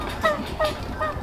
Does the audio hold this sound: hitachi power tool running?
no